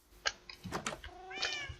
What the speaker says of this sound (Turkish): Kedilerimiz burada.